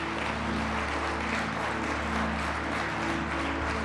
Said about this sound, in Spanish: ¿Por qué no le damos un fuerte aplauso a Dios?